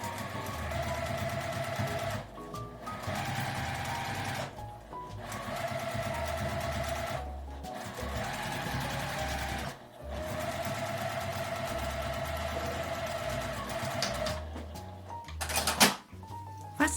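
A sewing machine stitches along a fabric edge in several bursts of rapid mechanical whirring, separated by short pauses, close and steady, with a few clicks near the end.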